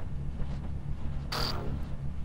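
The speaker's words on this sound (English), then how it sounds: "so we're going to move, and then we're going to neural overload." In the turn-based RPG Underrail, the neural overload psionic ability fires as a single short, bright electronic burst with a ringing tone, rising briefly over a steady low game-ambience hum.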